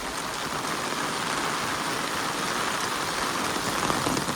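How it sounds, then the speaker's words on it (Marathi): Heavy monsoon rain pours down in the Konkan region, making a dense, unbroken hiss that stays loud and even throughout with no voices. "पाऊस खूप आहे मित्रांनो इकडे कोकणात खूप म्हणजे खूप पाऊस आहे एकदम जोरात"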